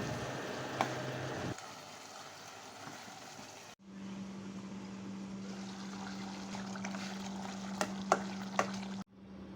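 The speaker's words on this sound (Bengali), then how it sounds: "কলিজাটা দেওয়ার পরে আমি একটু পর পর নাড়া দিয়ে দিয়ে এই কলিজাটা ভুনা করে নেব" Beef liver frying and being stirred in a pan, a steady soft sizzle with occasional scraping and light clicks of the spoon, fairly quiet and close, no talking.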